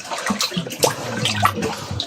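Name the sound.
seawater flowing through a tunnel in a cave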